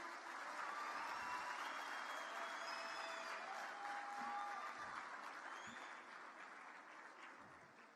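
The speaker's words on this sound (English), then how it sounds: "Another round of applause, please, ladies and gentlemen." Large audience applauding at a youth event's official closing ceremony in Rwanda, a sustained dense wash of clapping filling the hall, slowly tapering toward the end with no talk over it.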